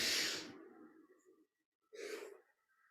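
Two long breaths during a yoga practice, close and soft: an airy exhale fading out over about a second, a brief pause, then another gentle breath, with no talk.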